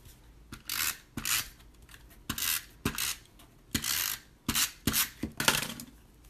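A snail adhesive tape runner rolling glue onto a note card, a series of about ten close, raspy scraping strokes in short bursts with brief pauses between them.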